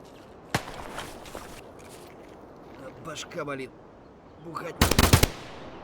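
Gunfire in the shooter game Escape from Tarkov: a single sharp shot early on, then footsteps and scattered noise, ending in a loud close burst of automatic fire, with people talking over it.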